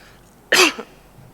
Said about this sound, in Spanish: Sabía que me iba a atacar un poco la tos